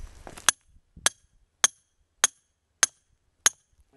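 A hammer striking a stake into the ground, six sharp, evenly spaced metallic blows about half a second apart, close and loud against silence, with brief shuffling at the start.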